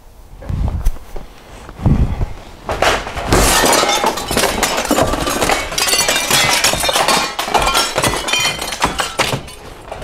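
A window's glass is broken out with a tool, working around the frame from a top corner. A few sharp knocks come first, then a long, loud run of shattering, tinkling shards and clinks, with scattered thuds from close by.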